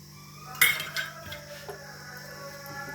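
Cumin and asafoetida crackling in ghee in a wok, faint steady sizzle under a few sharp metallic clinks and scrapes of a ladle against the pan, with no voices.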